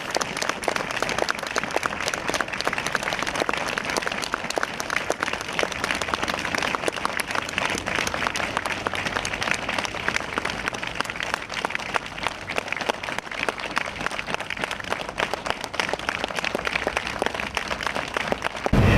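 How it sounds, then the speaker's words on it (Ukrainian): A crowd of colleagues and admirers outside a theatre in Khmelnytskyi gives sustained farewell applause for a People's Artist of Ukraine, a dense, steady wash of many hands clapping at a fairly loud, unchanging level throughout. "Це останні прощальні аплодисменти, котрі звучали на честь народної артистки України Лариси Власенко від її колег по цеху"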